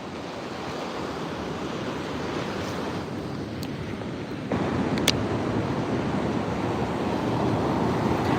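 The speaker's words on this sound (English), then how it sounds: "I get to come out and enjoy this beautiful beach" Waves wash onto a beach in a continuous, rushing surf with wind noise, getting somewhat louder partway through, with no voices over it.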